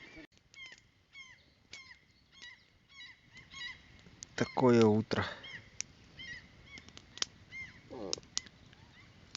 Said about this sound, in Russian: И утки крякают.